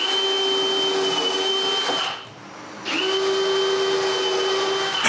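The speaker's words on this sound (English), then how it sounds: "Since my jig only has 6 holes, I need to use the indexing pin to continue drilling more of them." A drill boring rows of holes through a bookcase panel with a jig gives a loud, steady high whine that cuts out briefly for the indexing pin, then resumes.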